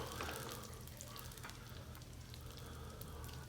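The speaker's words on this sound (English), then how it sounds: "Make sure it's getting fried good." Breakfast burrito filling fries in oil, giving a steady, dense sizzle with fine crackles and pops at close range and no talk over it.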